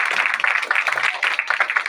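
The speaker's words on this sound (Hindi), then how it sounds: "जोरदार तालियां इस परिवार के लिए" An audience at a New Year programme at an Om Shanti centre claps steadily and fairly loudly in a dense, continuous patter, with voices mixed in beneath.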